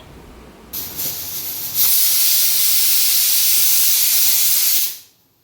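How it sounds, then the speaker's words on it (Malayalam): A stovetop pressure cooker of green gram hisses out steam, building in short bursts before settling into a loud, steady rush that cuts off abruptly; no one speaks. "ഞാൻ സ്റ്റൗ ഒക്കെ കത്തിച്ചിട്ട് നമ്മുടെ കുക്കർ അങ്ങോട്ട് വെക്കുകയാണ് അപ്പം ഇതിന് വിസിലൊന്ന് വരട്ടെ"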